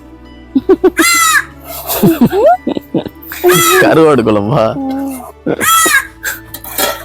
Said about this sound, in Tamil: நம்ம அந்த காக்காவுக்கு என்ன வேணுமா கத்திக்கிட்டே கிடக்கு